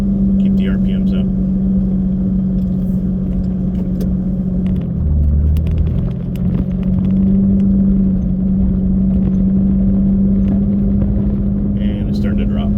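A Jeep engine held at high RPM during an off-road trail outing gives a loud, steady droning hum with a constant low rumble, while a voice talks over it at times.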